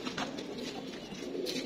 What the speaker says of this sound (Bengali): বাকি কবুতরগুলা এখানে আছে।